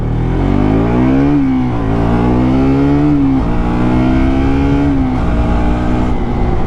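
A 2025 KTM RC 200 motorcycle accelerates hard, its loud, close engine note climbing in pitch, dropping briefly at each gear change, then rising again through several gears.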